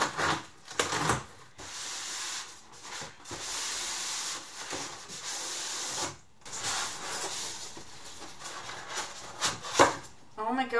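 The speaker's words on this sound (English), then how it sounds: "get it out of the box" A compound bow comes out of its box during an unboxing, with scattered rubbing, scraping and tapping of packaging and bow parts, close up and fairly loud, broken by brief quiet gaps and a faint voice.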